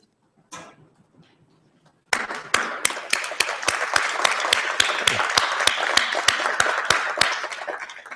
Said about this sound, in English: I invite you actually all to stand up, turn around, salute and applaud your family and friends